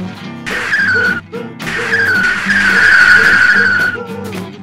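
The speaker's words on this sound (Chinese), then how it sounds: "还是有可能因为轮胎锁死发生打滑现象哦" Motorcycle tyres lock and skid under emergency braking on a road: two long, loud tyre squeals over a rumbling engine, the first short and the second longer and sustained.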